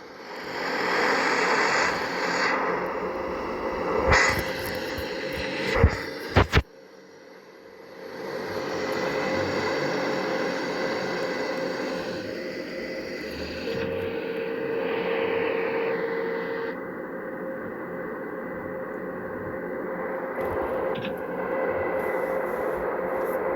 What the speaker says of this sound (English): Let's say goodbye to the really old military cargo plane before we get on our RL.